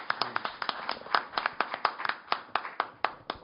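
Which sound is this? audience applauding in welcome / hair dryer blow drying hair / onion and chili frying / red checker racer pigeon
audience applauding in welcome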